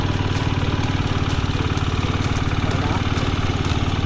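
A 125cc motorcycle engine idles close by with a fast, even putter, steady throughout, while a person speaks a word over it.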